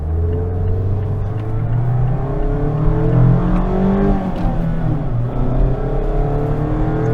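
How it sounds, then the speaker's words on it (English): The naturally aspirated 2-liter engine of a 2020 Mazda MX-5 RF drones and revs from inside the cabin, its pitch climbing and falling steadily without talk. "As you guys can hear, this engine sounds great when you push it."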